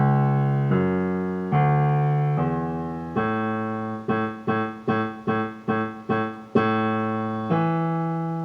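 A keyboard plays the melody of Bach's Marche alone, beginning with several longer held notes, then a run of short, evenly detached repeated notes before returning to sustained tones; clear, close and moderately loud.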